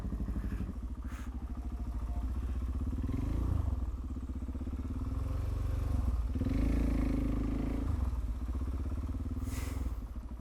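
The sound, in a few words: Suzuki DRZ motorcycle engine running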